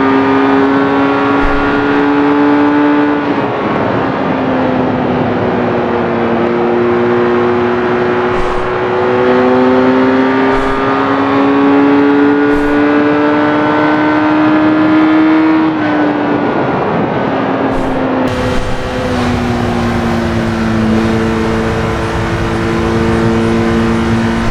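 A 2006 Kawasaki ZRX1200 muscle bike engine in the racing game RIDE, a loud, close, sustained drone that rises and falls in pitch through several gear changes and throttle shifts, with no talk over it.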